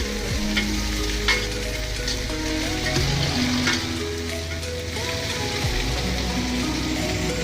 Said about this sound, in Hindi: ये हमने भिंडी डाल दी, अब मैं इसको फ्राई करूँगा